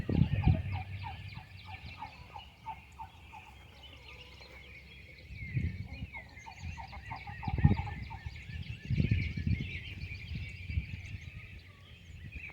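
Chickens in a backyard flock of roosters and hens, with soft, steady clucking and chatter running throughout and a few louder, low thumping bursts near the microphone.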